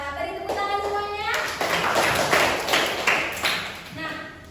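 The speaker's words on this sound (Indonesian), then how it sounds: "Beri tepuk tangan semuanya." Classroom applause from students, a burst of clapping with taps under a teacher's voice, mid-loud and close, following a spoken prompt.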